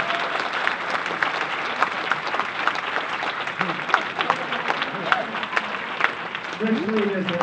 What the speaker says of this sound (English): one more round of applause for us